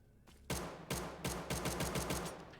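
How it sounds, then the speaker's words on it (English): PB pistol firing in a video game: seven rapid sharp gunshots, evenly spaced and loud, starting after a brief quiet lead-in, with no talk. "the next one up is going to be the PB pistol."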